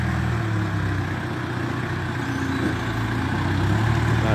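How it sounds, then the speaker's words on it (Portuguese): A tractor engine runs steadily on a farm, a loud continuous low rumble that holds throughout without talk over it. "O trator vai pegando lá atrás, trazendo aqui para nós."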